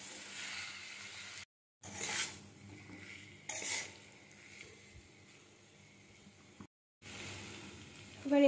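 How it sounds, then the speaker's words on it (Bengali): Potatoes get stirred into a spice mixture in a pan for an aloo curry, giving soft scraping and rubbing strokes in a few separate bursts with short silent gaps between them. "মশলাটার সাথে আলুটা ভালোভাবে মিশিয়ে নেব।"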